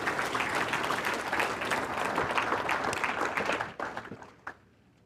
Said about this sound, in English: let's give Timmy a round of applause because he's done so much to make this happen